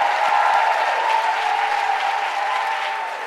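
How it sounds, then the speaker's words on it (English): Loud, dense applause from a large conference audience, a steady wash of clapping that holds throughout and eases slightly near the end, with no speech over it. "Please give a huge, amazingly loud round of applause to Jen Camper and to Andre Carrington"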